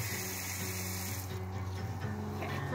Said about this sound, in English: Oops, I forgot to turn the water off.